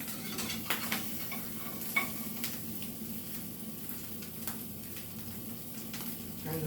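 A quesadilla fries in a pan after being flipped, a soft steady sizzle broken by occasional scrapes and taps of a utensil, close and moderately quiet with no speech.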